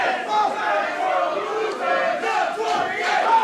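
An indoor crowd at an RWA tag team championship wrestling match chants together in loud, rhythmic, rising and falling swells of many voices, with no other sound standing out.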